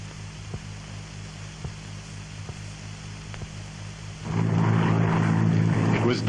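Propeller aeroplane droning steadily in flight during a wartime supply drop, a low engine hum throughout that swells louder and closer in the final two seconds.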